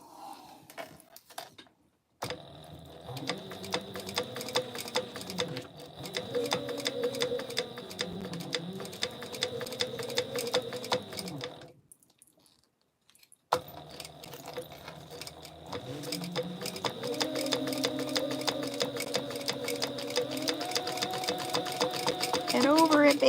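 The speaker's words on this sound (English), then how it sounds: "Let's sew this gussie up." A sewing machine stitches a Mila Monster bag in two long runs. Its rapid, even motor clatter rises and falls in speed and is broken by a short pause. Someone talks over the sewing.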